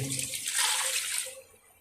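A cup of water is poured into a cooking pot holding garlic and tomato for aloo gosht, giving a short, close splashing gush that cuts off abruptly.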